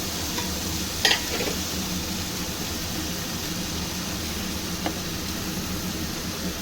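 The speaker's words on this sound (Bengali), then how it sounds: "একটু জল দিলাম মশলাটা কষাবো বলে।" A masala with ridge gourd, potato and prawns fries in a pan, with a steady, loud, close sizzle and a few soft stirring scrapes throughout.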